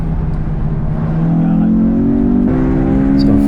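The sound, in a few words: Honda S2000 accelerating hard on race track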